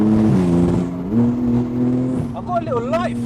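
A 900bhp Porsche Turbo driving at night, a steady loud engine drone from inside the car that shifts pitch as it accelerates, with voices talking over it.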